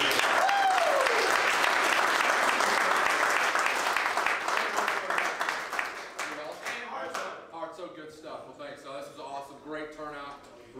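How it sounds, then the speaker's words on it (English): A crowd at a chili cook-off gives a round of applause, dense loud clapping that thins into scattered claps and fades out. "how about a round of applause for Aaron McClay?"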